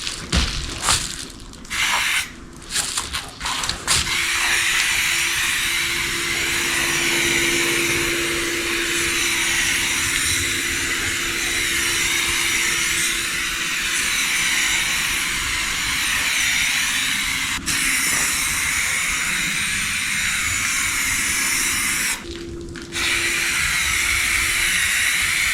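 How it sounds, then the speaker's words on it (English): Plasti Dip aerosol spray hissing onto a car's front bumper grill, a Corolla, in one long continuous burst after a few short taps, loud and close, with a brief pause near the end before spraying resumes. "we're just gonna spray it left to right, not stopping at any spot."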